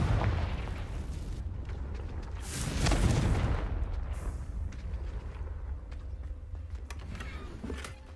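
A spell explosion in the video game Hogwarts Legacy bursts with a deep boom around the middle, swelling then fading into a rumbling tail, moderately loud over ambient game sound.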